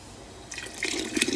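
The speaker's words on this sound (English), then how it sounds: "I decided to put a little bit more water in there" Water poured into a pot, a short splashing trickle that starts after a brief quiet moment and builds slightly, close by.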